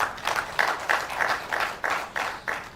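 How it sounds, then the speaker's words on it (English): Audience at a technical session of an international ICT conference claps for the presenters, a moderate patter of hands with a rhythmic pulse, fairly close, with no talking over it. "Can I request for a round of applause for all of our presenters?"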